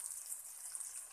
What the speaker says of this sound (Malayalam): ഇതിലേക്ക് ഇനി ഞാൻ ശർക്കര ഉരുക്കിയത് ഒഴിച്ചു കൊടുക്കാൻ പോവാണ്